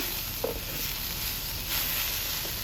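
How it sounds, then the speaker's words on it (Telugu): Golden shower leaves frying in oil in a pan over a low flame during village cooking, a steady close sizzle and hiss with a few small pops, no talking. "సిమ్లో పెట్టుకొని చక్కగా వేయించుకొని"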